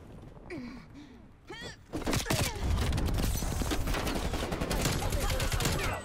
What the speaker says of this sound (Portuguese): eu tô sentindo que eu tô tomando tiro de toda